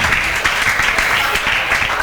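Students in a classroom clap together in a brief, dense burst of applause, with a voice audible among the clapping.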